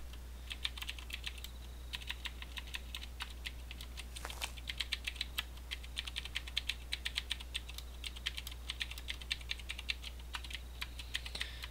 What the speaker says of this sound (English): Yeah, I just like typing.